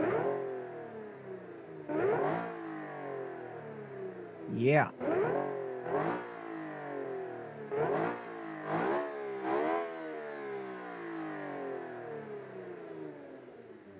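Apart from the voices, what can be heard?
car engine revving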